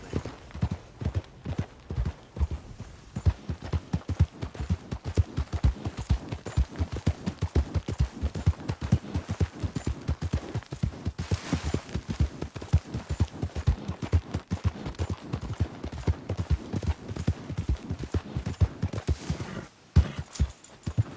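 Horse hooves pound in a steady, fast gallop in the Red Dead Redemption II western game, loud and close with a continuous driving clip-clop rhythm and a brief pause near the end.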